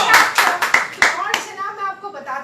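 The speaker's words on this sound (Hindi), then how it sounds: "तालियां।" A studio audience on a television show claps in a few sharp, loud bursts, then the clapping thins and a voice carries over the fading applause.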